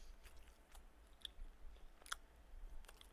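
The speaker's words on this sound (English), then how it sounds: "I'm chewing all in your ear." Someone chews very close to the microphone, giving faint wet mouth clicks and a few sharper crunchy bites over a quiet background.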